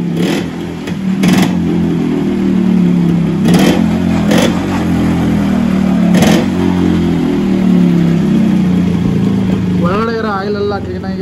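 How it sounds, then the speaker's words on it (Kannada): A Yamaha RX100 motorcycle engine runs steadily after being restarted during a full service, a loud, close, continuous two-stroke drone with a few sharp clatters, while people talk over it. "ಒಳಗಡೆ ಇರೋ ಆಯಿಲೆಲ್ಲ ಕ್ಲೀನಾಗಿ ಆಚೆ ಬರಲಿ ಅಂತ ಮತ್ತೆ ಸ್ಟಾರ್ಟ್ ಮಾಡಿ ರನ್ ಮಾಡಿದ್ದಾರೆ"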